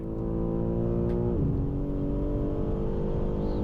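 A sports car engine on a race track drones loud and close, its pitch climbing steadily as it accelerates, with a brief gear change midway and no voices.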